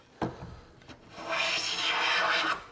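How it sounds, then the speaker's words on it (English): A hand plane takes a thin, wispy shaving from a wooden board. One short scrape comes first, then a longer, smooth, airy rasp of the blade across the wood, close and fairly soft. "So I'm taking a really kind of thin, wispy shaving here."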